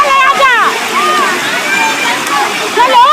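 Children jumping and splashing into shallow water below Bhivpuri waterfall: a steady rush of water with irregular splashes and sloshes, close and loud throughout.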